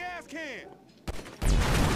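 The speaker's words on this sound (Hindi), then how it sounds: "अरे भाई बहुत बड़ा धमाका हो गया यार" Blowing up a tank in GTA V unleashes a sudden loud blast, a sharp crack followed by a roaring, broadband explosion rumble, after a brief synthetic game sound.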